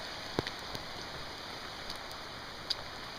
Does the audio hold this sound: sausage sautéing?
no